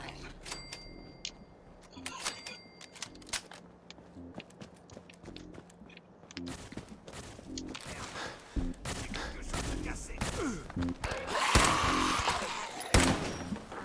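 Gunfire in the video game Fallout 4 rings out as scattered sharp shots and bursts amid footsteps and game clatter, building to a denser, louder barrage toward the end, with no talk over it.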